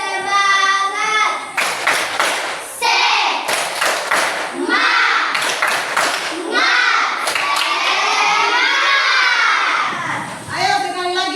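A group of children in a classroom chants loudly in unison, broken by bursts of rhythmic hand claps in quick sets, lively and close.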